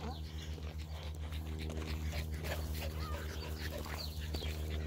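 Faint dog whimpers and whines sit in the background of an outdoor walk, under a steady low rumble, with talking nearby.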